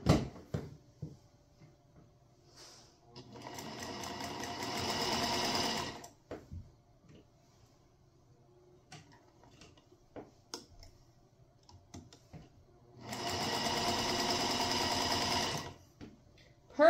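A Featherweight sewing machine stitches in two smooth, quiet, steady runs of several seconds each, with light clicks and handling taps in between.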